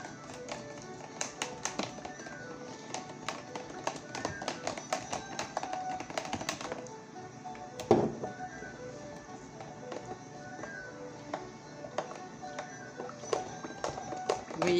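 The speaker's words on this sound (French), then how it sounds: "Il faut bien mélanger la moutarde." Mustard being stirred for a Tex-Mex meat marinade, giving quick repeated light taps and clicks of a utensil against a bowl, close and fairly soft, in a steady irregular rhythm.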